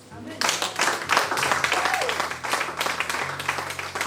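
A church congregation breaks into applause acclaiming Jesus during a French sermon, a dense, sustained wash of clapping lasting several seconds, with a low musical drone underneath.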